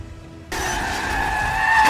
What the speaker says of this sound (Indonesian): John mengelilingi mobil Viggo sambil menembaki anak buahnya